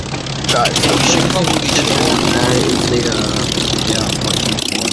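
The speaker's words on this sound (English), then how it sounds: "I may have made the engine a little too loud." A deliberately overloud engine drone in a video game, a dense, steady roar that fills the whole stretch, with a person talking briefly over it.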